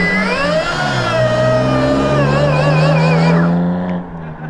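Stark Varg electric dirt bike fitted with supermoto street wheels, wet from grass, spinning its wheels: a loud rising and falling electric motor whine with warbling tones, sustained for about four seconds before cutting off.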